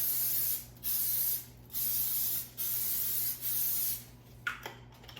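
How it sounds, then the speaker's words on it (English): Cooking spray hisses onto a small baking dish in four steady bursts of about a second each, close and fairly loud, followed by a faint clatter. "I'm going to spray it with some cooking spray"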